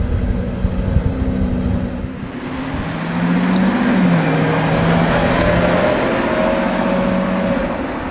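A grey Lamborghini Revuelto growls past at moderate distance, a steady broadband roar with a rising and falling engine note over continuous outdoor traffic noise.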